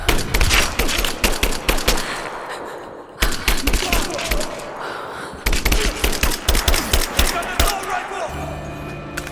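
Dense gunfire from a firefight in Rise of the Tomb Raider on PC, with rapid automatic bursts and single sharp shots stacking into continuous volleys that pause briefly, then resume loud and close.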